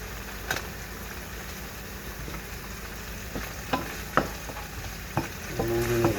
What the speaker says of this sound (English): Moving the onions.